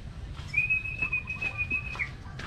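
Racing pigeons returning home, with brief flutters of wings and a thin high whistle-like tone over faint low background noise.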